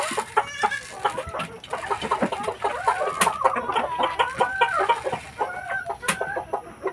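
Free-range backyard hens clucking steadily and close by, with overlapping calls and an occasional louder squawk throughout, no talking.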